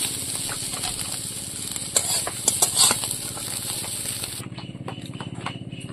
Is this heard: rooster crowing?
no